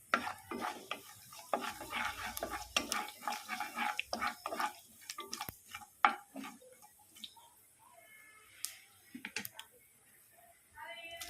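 Cumin and mustard seeds frying in oil for semiya upma, heard as quiet uneven crackles and sharp scraping stirs against the pan that thin out toward the end.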